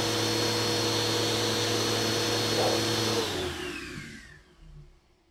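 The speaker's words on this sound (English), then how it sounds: "I simply put a vacuum hose next to the balloon, and when I turned it on, the balloon moved towards the vacuum hose." A vacuum cleaner hose roars loud and steady at close range, then winds down and fades as the motor shuts off.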